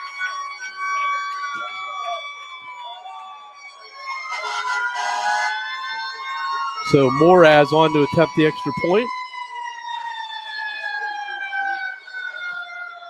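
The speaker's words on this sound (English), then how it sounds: "Glad to hear the sirens going off." Sirens wail at a high school football game after a touchdown, several rising and falling tones layered with a blaring horn burst, loud and near, heard under a play-by-play announcer talking.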